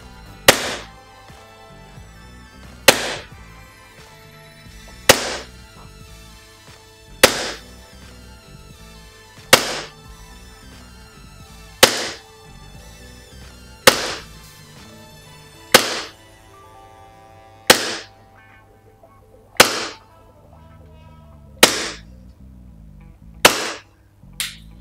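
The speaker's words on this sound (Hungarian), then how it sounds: "töltsünk bele gázt, és rakjunk bele némi BB-t, és kronozzuk le, hogy mit lő a kicsike" A WE19 etched metal gas airsoft Glock fires BBs through a chronograph, ten sharp single shots spaced about two seconds apart. Each is a crisp, close pop with a short decay. No voices are heard.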